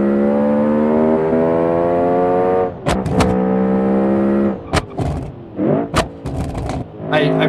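A 12,000 rpm V8 engine in a kei car in BeamNG screams with a high harmonic whine, then drops off into sharp popping afterfire bangs and crackles, loud and close, scattered irregularly through the rest.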